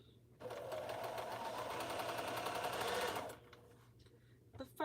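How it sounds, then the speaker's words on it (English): Domestic sewing machine stitching steadily for about three seconds of quilt piecing, a fast even needle rhythm at close range, then stopping abruptly; brief faint clicks and handling noises follow. "I am going to backstitch just to make sure I caught the ends"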